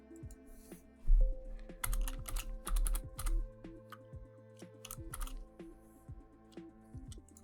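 Bursts of close-up clicking keystrokes on a computer keyboard while a Bitcoin mining pool address is entered to set up a NerdQaxe++ solo miner, uneven in rhythm with short pauses, over a faint steady hum.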